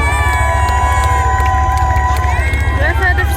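A crowd at a tank parade and battle event hoots, hollers, cheers and shouts in a dense, sustained roar over a pulsing low engine rumble, with some whistle-like cries rising above.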